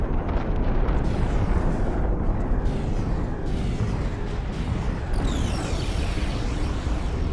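Massed boom bot explosions in the strategy game Planetary Annihilation form a dense, continuous roar of overlapping blasts and rumble, loud and sustained throughout with no pauses.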